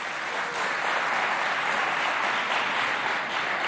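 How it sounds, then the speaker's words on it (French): Sustained clapping fills a hall as a school debate crowd applauds a student, an even, unbroken roar of many hands at moderate volume, with no voices standing out. "Applaudissez pour elle, s'il vous plaît."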